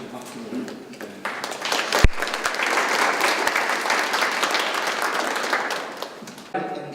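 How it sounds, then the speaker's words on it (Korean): Audience applause at a fashion and wearable-technology talk, a full, even round of clapping building after a sharp knock and holding steady for several seconds before tapering off. "다양한 경험을 가지고 이야기해 주신 수지 파크차에게 다시 한번 박수를"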